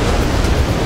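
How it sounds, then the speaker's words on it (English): Ocean waves break steadily onto a sandbank along a rocky surf coast, a continuous loud rushing wash with wind buffeting the microphone and no talk. "We've got the wave breaking onto the bank"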